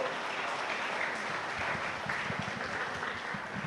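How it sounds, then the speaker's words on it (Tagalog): A church congregation applauds at length during a sermon, a steady wash of clapping from many hands with a few closer, distinct claps showing through and no one speaking. "Palakpak yan Ginoo."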